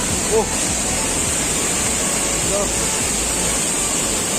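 Langvoku waterfall roars as a loud, steady wash of falling water, close by, with faint voices briefly under it.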